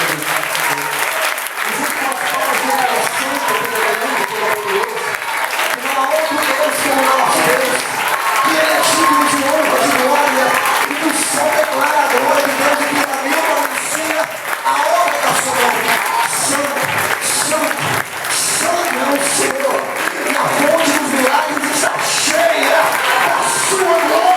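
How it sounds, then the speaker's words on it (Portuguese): A congregation at a revival congress breaks into long, loud, sustained applause that fills the hall, with voices and cheers mixed into the dense clapping throughout. "dê a Ele a melhor salva de palmas que você pode fazer"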